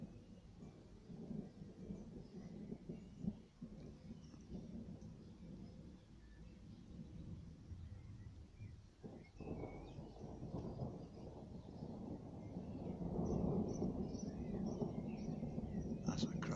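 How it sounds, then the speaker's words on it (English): A thunderstorm over Gainsborough rolls on as a steady deep rumble, building heavier and louder toward the end, with a spell of rain-like hiss through it. "That's a cracking storm."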